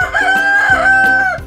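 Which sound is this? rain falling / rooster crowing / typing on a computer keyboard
rooster crowing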